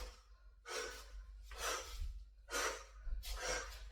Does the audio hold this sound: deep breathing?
yes